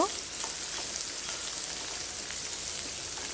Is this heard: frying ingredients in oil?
yes